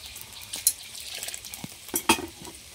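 Water goes into jackfruit curry cooking in a pan, with a soft sizzle broken by a few sharp clinks and scraping bursts from stirring.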